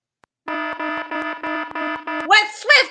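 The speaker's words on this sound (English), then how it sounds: "they have set continuous alarms 5 minutes apart from each other to ensure they wake up" An alarm clock goes off with a loud, close electronic beeping that pulses in rapid regular bursts, followed by a voice cutting in at the end.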